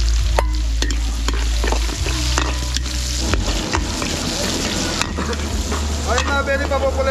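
Garlic and onion sizzling and being stirred in a hot pan while cooking for a catering job in San Rafael, Bulacan, with steady frying hiss, repeated spatula scrapes and clanks against the pan, and a few faint voices in the background.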